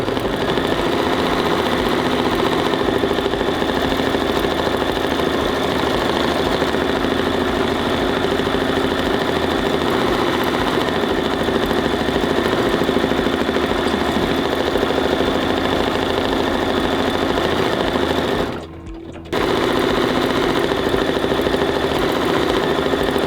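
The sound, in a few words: embroidery machine stitching heart quilting in the hoop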